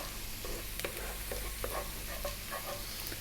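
Garlic and ginger frying on maximum heat in a pan, a steady close sizzle with repeated scraping strokes from stirring, no talk.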